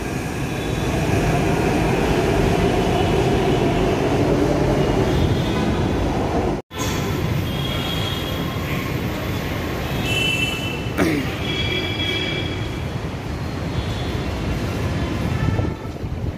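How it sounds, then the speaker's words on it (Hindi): A metro train on the Hyderabad Metro rumbles steadily past at close range at Nampally station, a continuous loud roar of wheels on rails with occasional faint squeals. "देखिए ट्रेन भी जा रही है।"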